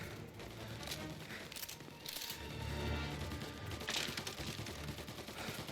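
Gunfire in Mafia: Definitive Edition, several quiet bursts of shots scattered across the clip at moderate distance, with game ambience beneath.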